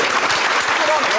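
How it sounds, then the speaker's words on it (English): Studio audience applause on a motoring TV show, loud and dense, overlapping with cheering or voices for the brief moment it lasts. "So a round of applause for Skoda!"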